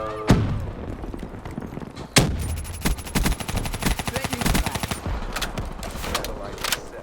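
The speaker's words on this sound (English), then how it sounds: "I'll hip fire as soon as I can" Rapid gunfire in Black Ops 3 on the Nuketown map: single heavy shots, then a sustained automatic burst of fast cracks, loud and close, with a voice talking over the action.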